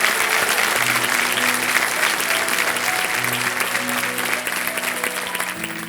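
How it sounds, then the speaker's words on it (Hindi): A Kaun Banega Crorepati studio audience gives a contestant dense, sustained applause over soft show music, steady and loud throughout and tapering slightly at the end. "तालियों के साथ इनका स्वागत किया जाए।"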